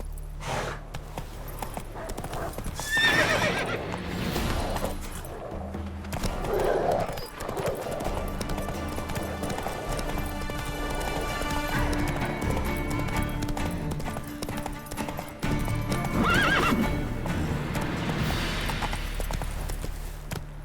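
Roach the horse from The Witcher 3 gallops in a steady hoof rhythm with occasional neighs and snorting breaths, layered over game ambience and music throughout.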